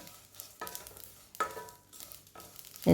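Curry leaves frying with black pepper and cumin in a pan for a medicinal kuzhambu, giving a soft, steady sizzle broken by a few louder stirring scrapes and crackles, close by with no talking.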